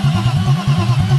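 A BMW E36 engine with a freshly rebuilt valvetrain and new timing chains cranks on the starter, a rapid rhythmic churning loud and close, unbroken through the short burst with no talking.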